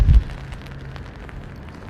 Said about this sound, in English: it's always a bit annoying when you have the rain as well as the wind